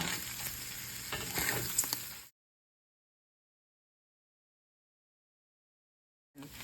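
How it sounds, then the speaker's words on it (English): Crumbled sausage and flour cooking together in a pan give a close, bright sizzle with light stirring scrapes for about two seconds, then the sound cuts to silence before a brief return at the end. "you're gonna cook it for like 3-4 minutes until all the sausage is nicely coated and the flour is cooked"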